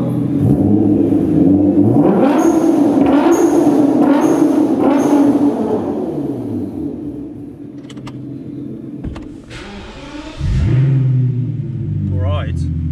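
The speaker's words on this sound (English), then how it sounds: "obviously with my straight piped V12, how loud it's going to be" A straight-piped BMW V12 rumbles and revs, its engine tone rising and falling in sweeps before dropping to a lower drone and then swelling again, heard close from the car with a voice talking briefly.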